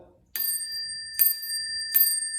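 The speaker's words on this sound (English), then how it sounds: "oh yeah, I love that ring" A Crane bicycle bell on a fixed-gear bike rings three times, bright metallic dings with long sustained tones, each strike ringing on clearly and close.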